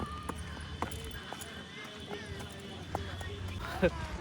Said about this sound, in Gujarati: હું ચાલું છું, મારી પાછળ બે ઘોડા ચાલે છે.